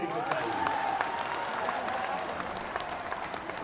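Steady crowd applause rises at a public gathering in honor of a revered religious leader, with dense clapping and a faint murmur of voices underneath throughout.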